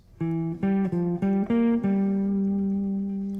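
A clean guitar plays a short phrase of several plucked notes with small pitch slides between them, ending on a long sustained, fading note.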